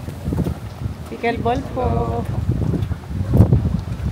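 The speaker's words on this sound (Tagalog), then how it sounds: "Sobrang hangin." Strong wind blowing outdoors at night while people walk into a suburban subdivision, gusty buffeting rumble across the microphone, with a person talking over it.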